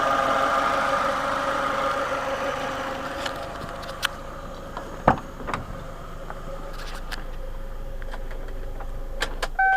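Engine of an old Chevy car running under the open hood, a steady low idle hum with a few clicks and faint metallic knocks scattered over it, heard up close with no voices.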